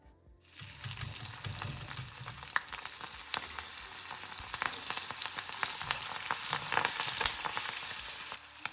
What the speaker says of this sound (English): Just give it a few seconds because you want to kind of fry it off properly.